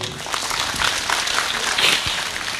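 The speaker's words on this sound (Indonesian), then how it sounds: "tepuk tangan kagem Mbah Kung." Audience applause at an evening government gathering in Ngawi Regency, East Java, a steady wash of clapping from a seated crowd that holds at an even level for a couple of seconds.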